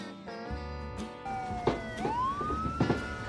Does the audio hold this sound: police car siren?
yes